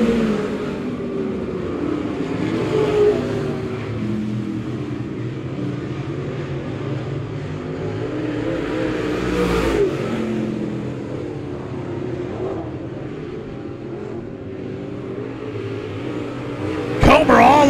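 Late model race cars roaring around the dirt quarter-mile at Monett Raceway, a continuous droning engine rumble rising and falling with passing cars under steady announcer commentary.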